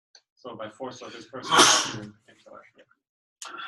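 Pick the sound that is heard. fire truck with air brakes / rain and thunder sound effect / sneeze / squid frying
sneeze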